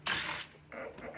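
A ratchet clicks briefly in two short bursts while undoing 7mm bolts on the front bumper of a 2017-2023 Chevrolet Bolt EUV, quiet and close with a short pause between turns.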